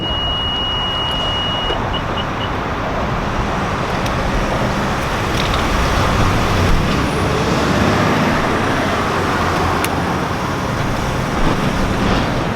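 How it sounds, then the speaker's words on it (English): A BMW E90 started remotely from its key fob idles steadily with nobody inside, a constant broadband engine and road-like hum with a faint electronic beep early on and no speech. "Yeah, car is on and running."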